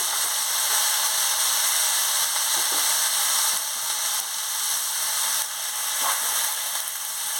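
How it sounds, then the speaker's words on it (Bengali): Mixed vegetables fry in hot oil in a pan for a Bengali chorchori with telakucha leaves and murla fish, making a loud, steady sizzle with a few faint clinks of stirring. "দিয়ে আমি ভালো করে ভেজে নিচ্ছি। আমি সব সবজিগুলোকে দিয়ে দিচ্ছি।"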